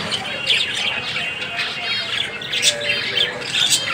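An almond-coloured fancy dove calls amid a dense, continuous chorus of chirps and squawks from many caged pigeons and birds at a fancy pigeon seller's, with faint talk underneath.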